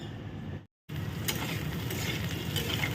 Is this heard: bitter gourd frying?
yes